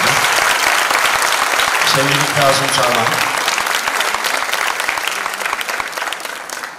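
A large award-ceremony crowd applauds loudly, with sustained dense clapping that fades slightly toward the end while someone speaks over it through a microphone.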